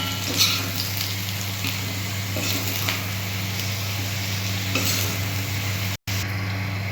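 Fried potatoes being lifted out of hot oil in a kadai while making vegetarian ghugni, a steady loud sizzle with scraping and stirring clinks throughout, briefly cut off near the end.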